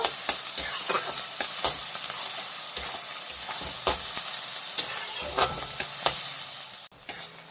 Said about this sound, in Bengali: পেঁয়াজটা আমি হালকা লাল করে ভেজে নেব।